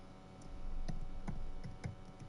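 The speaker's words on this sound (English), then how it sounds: "As you can hear me pounding the keys here." Computer keyboard keys struck hard during typing, a few loud, separate thumping clacks spaced unevenly over a low background hum.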